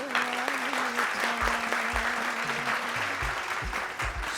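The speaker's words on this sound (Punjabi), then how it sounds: "ਜ਼ੋਰਦਾਰ ਤਾੜੀਆਂ" A studio audience at a singing competition claps loudly and steadily for a singer's performance, a dense sustained roar of applause while a voice talks over it briefly.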